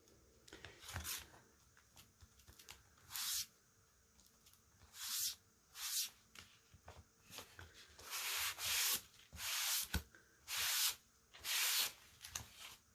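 Wax is rubbed into a knot hole on a turquoise faux-finished wooden surface, giving quiet repeated scrubbing strokes in short bursts, close and soft, with no speech.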